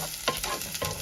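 Garlic sautés in a hot pan with a steady, close sizzle while it is stirred, a few scraping stirs cutting through the constant frying hiss.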